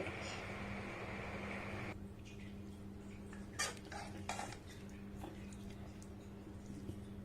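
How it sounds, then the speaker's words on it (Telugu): Cooked rice is stirred into a raw mango tempering for mango pulihora. A steady dull hiss is broken by a few short utensil clinks and scrapes as the mixing goes on, with no voice. "మామిడికాయ తాలింపు మొత్తం అన్నానికి పట్టేటట్టుగా చక్కగా కలపండి"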